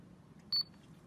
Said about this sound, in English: hold that button in and listen for that beep